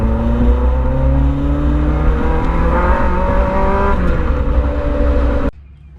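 A K-swapped Mini Cooper engine on a nitrous test run, loud and close, holding a high, buzzing drone at sustained revs with shifting harmonics, then cutting off abruptly near the end.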